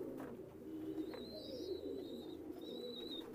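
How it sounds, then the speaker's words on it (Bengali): Pakistani 128 high-flyer pigeons coo in low, steady rolling murmurs at a breeding farm, with thin higher chirps breaking through now and then, moderately near and continuous throughout. "এই হাই ফ্লাইয়ের কবুতর, পাকিস্তানি 128।"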